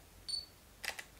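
A camera shutter release gives a faint electronic beep followed by a quick mechanical click-clack pair, soft and brief against quiet room tone.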